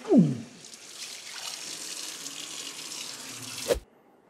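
Running tap water splashes into a sink while a squid is rinsed out under it, a steady close stream with a brief clatter at the start and a short knock near the end.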